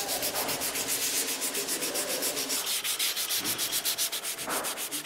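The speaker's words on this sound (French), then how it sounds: "Chaque crosse ensuite est poncée au plus fin, de façon à donner un grain un peu plus soyeux pour la crosse" A walnut gun stock being hand-sanded to a fine finish, a close, rhythmic back-and-forth rasping with steady regular strokes and no talking.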